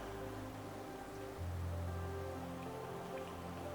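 Steady rain pours down in Hollow Knight, a dense even wash of droplets that stays loud and continuous throughout, with a lower rumbling layer joining partway through.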